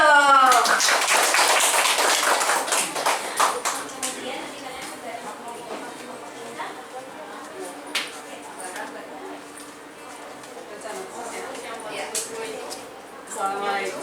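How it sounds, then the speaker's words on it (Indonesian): An audience in an Indonesian entrepreneurship class claps, with a loud burst of many hands at the start that thins into scattered claps and taps as the room settles. "Tepuk tangan dong."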